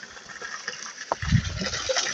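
Water from a natural spring spout used as an outdoor shower: quiet at first, then a closer gushing splash of pouring water starts about halfway through and keeps going.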